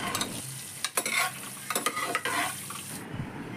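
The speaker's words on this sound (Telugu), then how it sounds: "ఇప్పుడు ఇందులోకి 1/2 స్పూన్ పసుపు, 1/2 స్పూన్ కారం వేసుకొని ఫ్రై చేసుకోవాలి ఎగ్స్ని." Boiled eggs fry in oil with turmeric and chilli powder for a home egg biryani. A close sizzle runs under quick scraping and stirring strokes, and the sizzle drops off sharply near the end.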